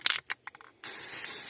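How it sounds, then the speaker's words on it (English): Tan spray paint hisses steadily from an aerosol can onto a rifle being camouflaged, starting after a few short clicks and continuing close and alone. "Going to go ahead and spray it all over there, get that really damp."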